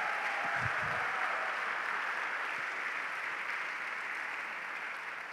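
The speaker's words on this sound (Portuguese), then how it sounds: "Pode aplaudir sem eu pedir." A church congregation applauds during a sermon, a steady wash of clapping sustained from start to finish at a moderate distance.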